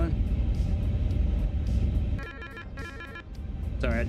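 A cockpit system chime rings in the Inibuilds A350 flight simulator, a few short bursts of tonal ringing late on, heard over a steady engine-like rumble and someone talking.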